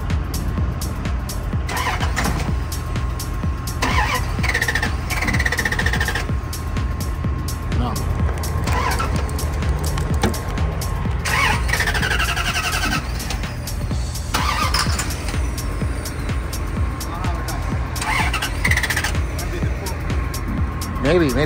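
An old, ugly truck's engine cranks repeatedly and fails to catch, with starting fluid being tried; the starter whirs loudly in several bursts across the clip, with voices in the background and a steady hum underneath.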